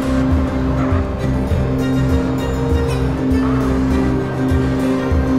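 Steady engine drone of a car driven in GTA San Andreas, continuous and loud throughout with no talk over it.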